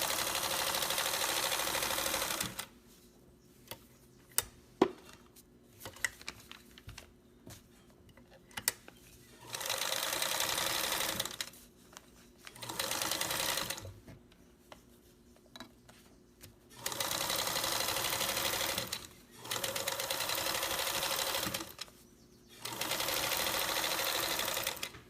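A sewing machine stitches fabric along an edge in four sustained runs of steady mechanical whirring, loud and close, separated by quiet pauses with faint handling clicks.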